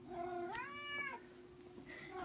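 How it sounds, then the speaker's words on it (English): A barn kitten meows in two rising, wavering calls, then a fainter third cry, close and clear over a steady low hum. "Another little barn kitty."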